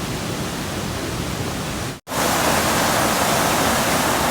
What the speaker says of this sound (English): They screw them things up and that water starts rolling down that trough